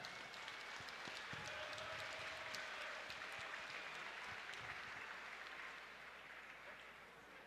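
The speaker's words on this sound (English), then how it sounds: "how about a round of applause for one hell of a contest?" Crowd applause after a Muay Thai contest at Illyrian Fight Night, a sustained roar of clapping and cheering from a large audience, steady throughout and tapering slightly near the end.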